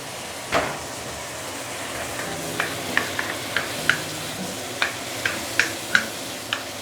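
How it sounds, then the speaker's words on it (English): Chili paste slowly sautéing in a pan for Muar assam fish with king tiger grouper, giving a soft low sizzle punctuated by scattered light clicks and stirring ticks of utensil against pan, close and fairly quiet. "because you want to slowly saute your chili paste"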